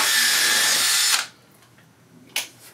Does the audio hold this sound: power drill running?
yes